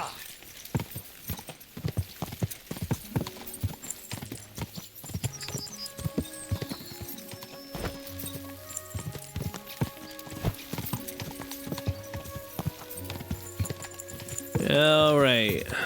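Horse hooves clip-clop in steady rhythm with spoken game dialogue over them in Kingdom Come Deliverance 2, ending in a loud, wavering neigh near the close.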